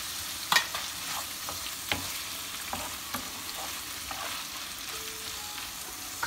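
Ground meat and tomatoes cooking together in a pan for baked eggplant moussaka, a soft, continuous sizzle punctuated by several light spoon scrapes and taps at irregular intervals, with no speech.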